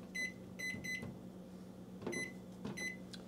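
An oven's timer gives several short electronic beeps in quick clusters while being set, with quiet room noise between the beeps.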